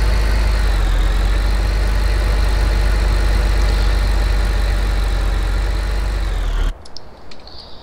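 A tractor engine idles in a farming video game (Farming Simulator 15), a steady loud low drone running continuously before cutting off abruptly near the end, leaving faint background sound.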